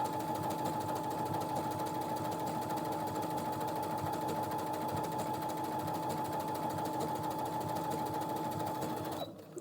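A Brother RS-260 sewing machine stitches steadily at a fast, even whir with a constant hum, running alone until it stops abruptly at the end.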